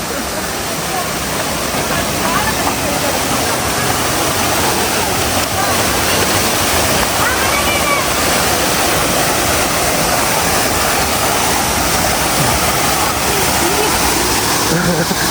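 Coolalingo waterfall in Wicklow, Ireland, roaring loud and steady throughout, a dense, unbroken rush of falling water with voices mixed into the noise.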